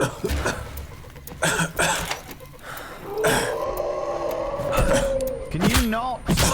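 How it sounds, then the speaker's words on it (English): A video game character coughs from gas: several rough coughs and throat-clearing bursts in the first few seconds, then a player talks over game sounds. "coughing regardless, so there's no point in putting my gas mask on"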